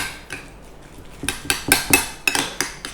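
Paneer being mixed with tomato ketchup and spices in a bowl, a run of sharp spoon clinks and scrapes that speeds up into a quick rhythmic beat.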